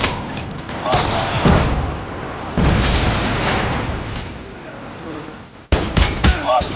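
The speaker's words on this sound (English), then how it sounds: "Friendly Predator missile inbound. It's too close." Predator missile strike in Call of Duty Mobile, with heavy booming blasts and rumbling explosions that swell and fade, then sharp thuds, mixed with game voice callouts.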